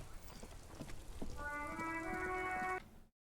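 Rain falls in the video game Disco Elysium, a soft even wash of drops under a brief chiming tone near the end before cutting to silence.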